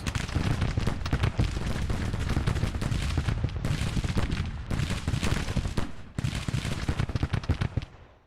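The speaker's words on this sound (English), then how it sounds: "our artillery is still firing away" Artillery and massed gunfire in the Civil War strategy game Grand Tactician: The Civil War, a dense continuous rumble of overlapping booms and crackling volleys at a steady loud level with brief gaps.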